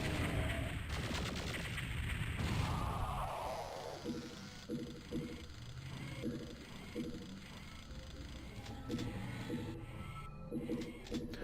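Rapid, repeated weapon fire from the Doom 64 video game, a dense run of sharp shots rattling over a steady game background, with no talk.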